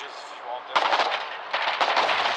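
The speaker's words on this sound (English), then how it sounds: "Opening shots fired here in this maneuver." Gunfire in the war game Foxhole as a squad of Wardens flanks a Colonial trench position: dense, loud overlapping rifle and machine-gun bursts crackle almost continuously, with a sharp surge partway through and another near the end.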